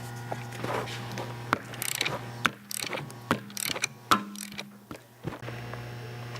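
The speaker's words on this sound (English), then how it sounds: "start to remove the spring compressor." Spring compressor being removed from a KYB strut assembly during strut mount replacement: close, irregular metallic clicks, ratcheting and clanks spread across the clip over a faint steady hum.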